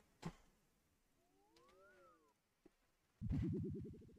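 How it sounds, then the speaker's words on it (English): A cat meows once in a video game, a faint rising then falling cry in the middle of quiet surroundings, followed by a loud pulsing burst of other game noise at the end. "No, come here, cat."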